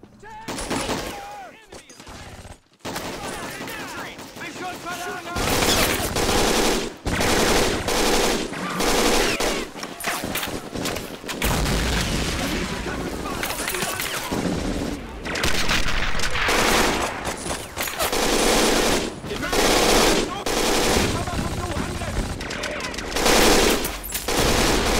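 Heavy machine gun bursts and rapid rifle fire in the WWII strategy game Men of War, fighting at Carentan, loud and nearly continuous after a brief quiet start, with booming impacts mixed into the barrage.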